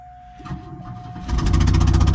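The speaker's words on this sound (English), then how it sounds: "it's either knocking or a mean exhaust leak" A car engine with either a knock or an exhaust leak cranks and catches, then runs with a rough, rapid knocking pulse that grows louder and steady.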